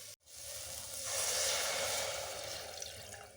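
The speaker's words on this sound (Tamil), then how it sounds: "இப்போ நான் இன்னொரு டம்ளர் தண்ணி சேர்த்துக்கிறேன்" Water from a tumbler is poured into a cooking pot of mutton soup, a soft, close splashing gush lasting a couple of seconds before fading, with no talking.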